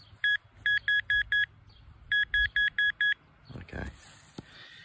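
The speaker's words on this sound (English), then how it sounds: "Oh, got a little beep then." A Nokta pinpointer metal detector emits two bursts of five short, evenly spaced electronic beeps, clear and close, followed by rustling and a person speaking briefly.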